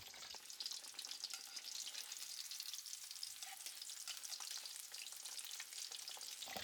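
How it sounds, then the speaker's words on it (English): Pork cutlet deep frying in hot oil for Japanese katsu, a dense steady crackling sizzle with fine bubbling that holds at an even level throughout, with no voices over it. "Deep fry the pork about 3 minutes."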